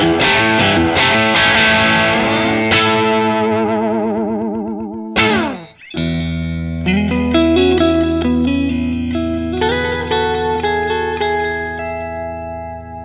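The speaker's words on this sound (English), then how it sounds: "Here's a few Strat tones through the Boss Katana Artist." Electric guitar, a 25-year-old Fender Stratocaster, played through a Boss Katana Artist amp, chords and single notes with distortion and echo, a brief pause, then clean shimmering chords ringing out.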